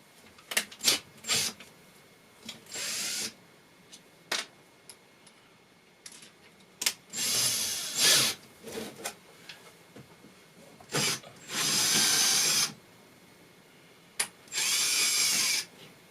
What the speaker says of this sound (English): Drill it wider.